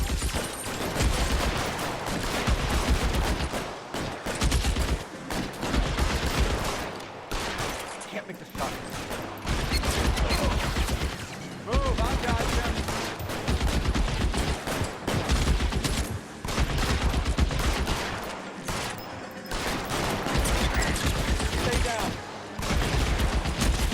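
Gunfire in L.A. Noire: bursts of shots and heavy volleys keep coming across the whole stretch, loud and close, with short gaps between them.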